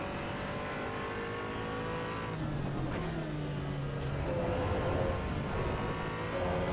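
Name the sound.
race car driving in the Assetto Corsa Evo video game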